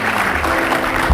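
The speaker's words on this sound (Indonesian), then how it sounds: "tepuk tangan sekali lagi" A studio audience on the Indonesian comedy talk show Indonesia Lawak Klub claps loudly in a dense, steady wash of applause, close and filling the whole short moment.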